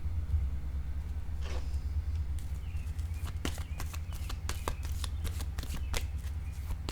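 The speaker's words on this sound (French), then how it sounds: "Je vais déposer une carte sur l'orage." Playing cards being shuffled, handled and set down on a table during a card reading: a close run of quick, crisp flicks and soft slaps, growing busier toward the end, over a low steady hum with no talking.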